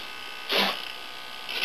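A slow servo steers the tailwheel of an RC model plane, giving a short, close electric buzz and then a second fainter whir over a steady background hiss.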